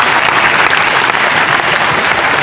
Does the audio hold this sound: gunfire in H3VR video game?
no